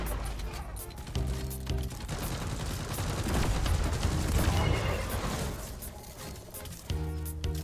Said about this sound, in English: Turret Whip kills them pretty quickly, cheaply, and also prevents them from attacking.